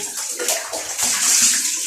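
Running water splashes and pours steadily into a tub as a small dog named Nami is bathed, close and continuous with no talking.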